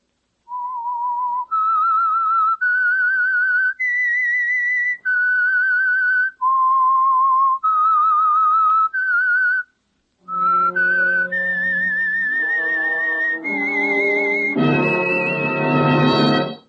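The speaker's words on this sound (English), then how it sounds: "That whistle is your signal for the Signal Oil Program" A clear, loud whistled melody of sustained notes, the theme of the radio show The Whistler, a short pause, then the tune continues with orchestral accompaniment swelling underneath.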